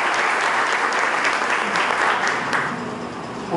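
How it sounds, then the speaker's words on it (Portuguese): An audience applauds a reverend at an installation ceremony of a letters academy, a dense, steady wash of many hands clapping that stays loud throughout and tapers slightly at the end. "Uma salva de palmas para o reverendo."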